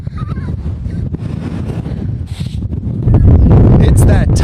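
Strong wind gusts batter the microphone at Crown Point in the Columbia River Gorge, a loud, rumbling roar that builds sharply toward the end while a person speaks over it.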